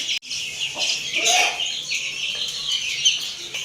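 A hen scattering feed among her chicks clucks in short, repeated calls, close and fairly loud, with faint chick peeps around her.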